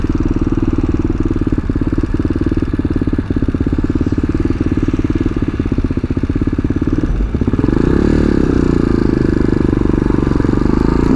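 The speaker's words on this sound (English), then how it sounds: "This bike is running beautifully now." A tuned TBR7 Chinese dual sport motorcycle engine runs close by with a steady, rapid clattering thump. Its pitch and loudness step up briefly near the end as it revs.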